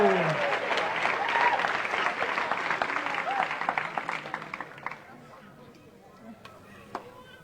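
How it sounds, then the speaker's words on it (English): An indoor audience at a spiritual retreat talk claps in a full burst of applause that thins out and fades to scattered claps over several seconds, with a voice heard briefly at the start. "Give yourselves a round of applause."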